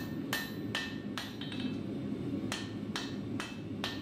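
Hand hammer strikes forge welding Damascus steel bolsters, about eight sharp ringing blows in an uneven rhythm, loud and close over a steady roaring forge.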